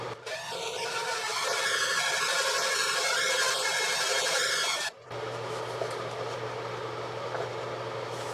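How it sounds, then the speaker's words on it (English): A steady, loud whirring drill runs continuously while drilling a hole in an LED projector box build, cutting briefly near the end before resuming with a lower hum. "That's where I want to drill."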